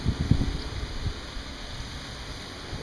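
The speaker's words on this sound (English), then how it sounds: "Very windy." Wind buffets the microphone in low gusty thumps on an Aruba golf course, strongest at the start and then settling into a softer steady rush.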